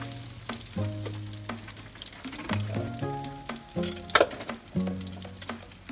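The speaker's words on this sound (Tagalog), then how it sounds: "So we're cooking kinapusan." Kinapusan fries in a pan with a steady, crackling sizzle throughout, while utensils clink and scrape against the metal now and then in a home kitchen.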